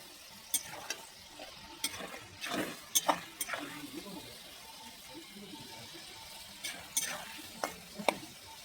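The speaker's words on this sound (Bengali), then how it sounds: "এবার আস্তে আস্তে লো ফ্লেমে ভেজে নেব।" Food frying in hot oil over a low flame, giving a soft, steady sizzle broken by scattered sharp clicks and taps from stirring, fairly quiet throughout.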